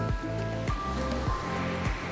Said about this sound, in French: nous avons, voilà, la cascade de la Naturbie, la belle rivière